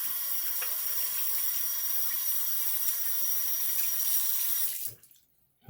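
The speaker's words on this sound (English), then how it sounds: "I'm gonna go ahead and rinse this off" A shaving razor, a Gillette with 7 O'clock Yellow blades, is rinsed under a running tap in a steady close hiss of water that stops abruptly near the end.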